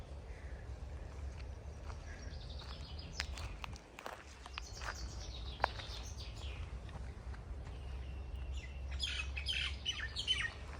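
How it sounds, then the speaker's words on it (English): Birds chirp and squawk in a botanical garden in Manukau City, Auckland, New Zealand, with scattered calls throughout, a busier burst near the end, and footsteps on a path below a low outdoor hum. "The birds chirping."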